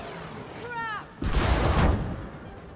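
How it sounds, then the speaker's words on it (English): Rockets fire from a boss in the video game It Takes Two, one loud, broad blast with a rumbling tail following a short whistling tone, with a voice briefly heard before it. "I don't think the rockets can miss."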